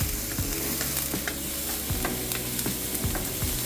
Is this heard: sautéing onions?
yes